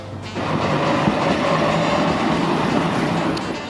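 A tram rolls through a city tram station in Ukraine, a loud, steady rumble with rail clatter that fills the scene from start to finish, no voices on top.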